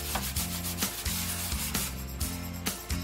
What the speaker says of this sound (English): we're just going to take our chalk on the side and we're going to rub the whole thing